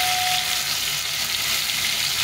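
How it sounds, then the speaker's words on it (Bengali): Pointed gourd (potol) slices fry slowly in a little spiced oil over a low gas flame, giving a steady, even sizzle and hiss close by with no voices. "সেইভাবে করে আস্তে আস্তে ভেজে নেব।"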